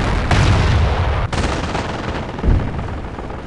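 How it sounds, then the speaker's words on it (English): Dense battlefield gunfire in Company of Heroes, a World War II strategy game set around the Falaise Pocket, with rapid overlapping rifle and machine-gun bursts and heavy booms that fill the whole clip. "They're firing on us!"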